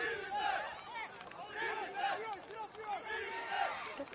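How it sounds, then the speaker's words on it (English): Crowd at an NPL Men's NSW football match between Rockdale Ilinden FC and APIA Leichhardt FC, cheering and shouting in rising and falling waves, fairly distant, with a commentator's voice over it. "But that gets the crowd pumped up a little bit."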